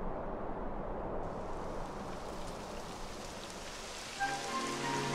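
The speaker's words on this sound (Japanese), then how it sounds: "やだ、雨が降ってきたわ。" Rain begins falling in the video game Dragon Quest XI S as a steady wash of patter on surfaces, building in brightness, with a faint tonal musical cue entering near the end.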